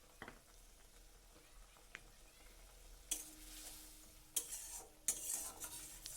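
Spice paste with peas cooks in a pan with a little added water, a low sizzle under scattered spatula scrapes that grow louder in a few sharp stirring bursts toward the end.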